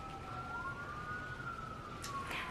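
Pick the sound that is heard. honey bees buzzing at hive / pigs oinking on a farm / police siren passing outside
police siren passing outside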